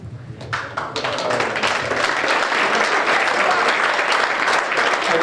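Round of applause for the players of the Dons football club at an end-of-season presentation evening, loud sustained clapping from a crowded room that starts with a few claps and builds into dense applause.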